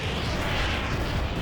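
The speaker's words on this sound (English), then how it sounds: "Call in the airstrike." An airstrike explosion in the tank combat video game Armored Warfare fills the moment with a dense, loud, sustained blast rumble, heard alone without talk.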